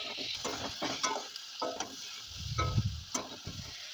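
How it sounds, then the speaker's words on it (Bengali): Drumstick pieces and potato frying in a pan with salt and turmeric, a soft sizzle under repeated scraping stirs and occasional clinks of the spatula, fairly quiet and close. "দিয়ে ভালোভাবে নেড়েচেড়ে একটু হালকা করে ভাজা ভাজা করে নেব।"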